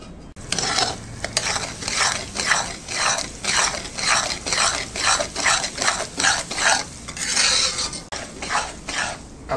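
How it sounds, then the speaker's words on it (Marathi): Semolina roasts in a pan for mango shira as a spoon scrapes and stirs it in even, rhythmic strokes, loud and close with a faint sizzle underneath. "आपला रवा एकीकडे भाजतोय"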